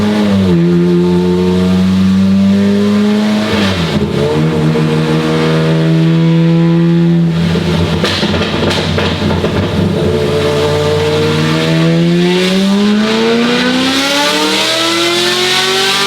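Loud, close Corvette drift car engine running and revving, its pitch climbing and dropping through several sweeps with a brief dip mid-way, a continuous roaring drone throughout.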